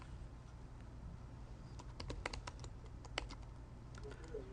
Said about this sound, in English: this of course is where you'd type in the email address